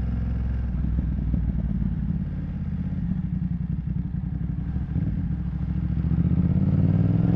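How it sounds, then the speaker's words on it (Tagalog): A BMW F900R motorcycle with a short Two Brothers aftermarket exhaust idles loudly with a deep, rumbling, raspy exhaust that swells slightly toward the end, steady throughout with no voices. "So itong kay Boss Jang, medyo shorty na to, kaya medyo maingay siya"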